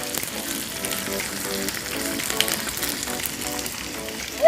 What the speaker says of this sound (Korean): 기름을 넉넉하게 두르고 튀기듯이 구워주세요